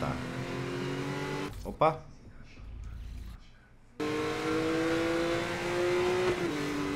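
A car engine revs in the racing game Need for Speed Most Wanted 2012 during a drift event, a rising whine that briefly cuts out and returns, with tire squeal and someone speaking over it.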